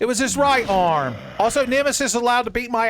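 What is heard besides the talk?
No everyday noises stand out.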